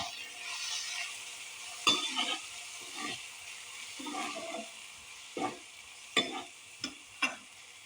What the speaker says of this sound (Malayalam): എന്നിട്ട് നമുക്ക് നന്നായിട്ടൊന്നും കൂടി ഇളക്കി കൊടുക്കാം.